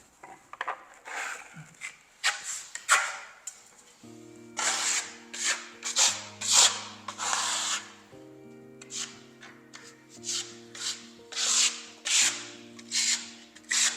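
Decorative Lava plaster is spread chaotically over a house wall with a trowel, heard as close rhythmic scraping strokes in irregular bursts, joined partway through by a sustained musical tone underneath.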